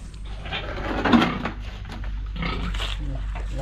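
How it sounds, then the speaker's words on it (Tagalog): Pigs grunt and snuffle nearby in a farm pen, with steady low background noise and occasional knocks, no talking. "Linisin muna natin yung kulungan ng baboy"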